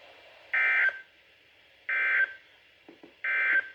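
NOAA Weather Radio alert system tones during a required weekly test: three short, evenly spaced electronic data bursts, clear and alone with no voice.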